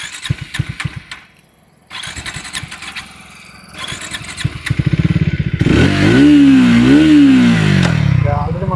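A 2026 Triumph Speed 350 motorcycle with a six-speed manual gearbox: its single-cylinder engine fires up and revs, rising in a loud, close, rhythmic throb that swells and dips with the throttle over the second half.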